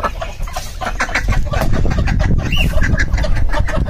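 Ducks at a small backyard mini zoo give a busy run of close, loud quacking and clucking calls over a rough, noisy background.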